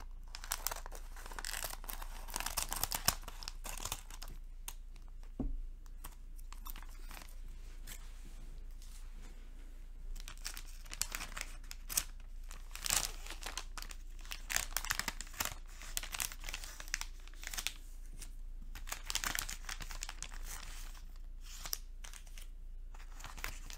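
Foil Pokemon card pack wrapper being opened up close, with soft crinkling, rustling and tearing bursts scattered across a quiet background, irregular handling sounds throughout.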